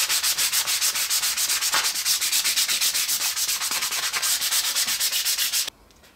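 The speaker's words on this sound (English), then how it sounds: "give it a good sanding just to soften up these sharp edges" Rhythmic sanding strokes rasp back and forth on plywood edges in a quick steady cycle, close and loud, stopping abruptly near the end.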